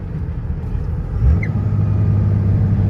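A Cummins truck engine with an S&B cold air intake rumbles low and steady through a gear shift, its tone dipping briefly and then settling back into a heavier, even drone, close and loud.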